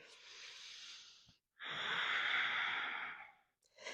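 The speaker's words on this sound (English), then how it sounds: "Deep breath here." During a yoga class, a person draws in a long, audible breath and then releases a longer, heavier exhale, both close and breathy, with a brief silence between them.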